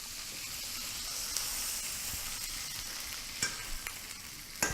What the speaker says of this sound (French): l'huile chaude qui est versée dessus, ça permettra la cuisson jusqu'à l'intérieur